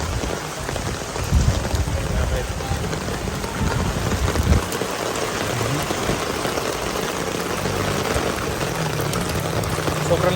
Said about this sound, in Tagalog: Kaya lakas na naman yung ulan.